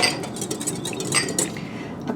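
A whisk beats half a cup of milk into egg yolks in a bowl for guar gum pudding, producing quick, close metallic clinks and scrapes for a couple of seconds.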